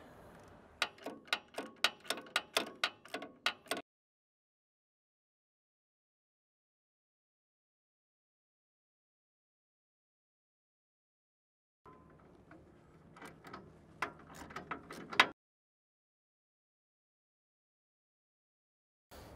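A 1-1/8 inch ratchet wrench tightens three-quarter inch front bolts on a Kooima Ag cracker plate in a John Deere 3000 Series harvester, giving two bursts of rapid, close metallic clicking separated by a long silence.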